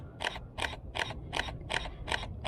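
Canon D30, an early 3-megapixel DSLR, firing its shutter in a continuous burst at 1/1000 s: seven evenly spaced mechanical clacks in quick succession, close and crisp, with no voices.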